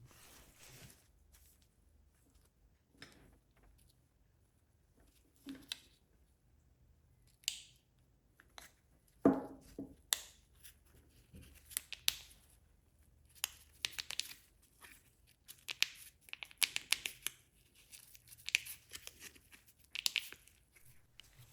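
Hardened metering diaphragm from a Stihl MS270 chainsaw carburetor, crinkling and crackling as it is flexed by hand: a close, faint series of brittle crispy crackles, sparse at first and then denser and more continuous.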